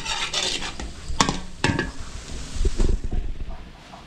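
Coconut milk going into a pan of sautéed garlic, onion and ginger, giving a close, brief sizzle and stirring scrape, with light clinks of utensils against the cookware and no talk.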